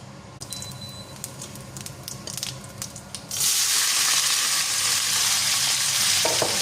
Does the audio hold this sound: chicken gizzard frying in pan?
yes